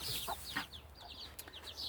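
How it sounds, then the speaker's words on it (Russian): Backyard hen clucking beside her chicks on a small homestead, with short bright chirps and clucks scattered over a couple of seconds, fairly close and alone without talk. "И вы увидите всех цыпляток. Вот она идет."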